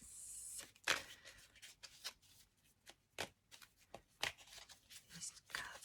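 A chunky deck of tarot cards is shuffled by hand in uneven bursts of riffling and sliding. The shuffling sounds close and moderately loud, with a brief pause between each burst.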